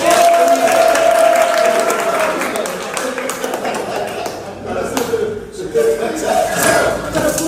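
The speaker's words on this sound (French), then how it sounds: "Ça s'applaudit" A crowd claps in a dense, sustained burst of applause that dips briefly and then swells again, with some voices mixed in.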